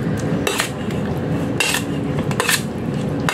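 Pork belly stirred with marinade in a bowl, a steady run of clinking and scraping utensil strikes against the bowl, close and fairly loud, with no talking.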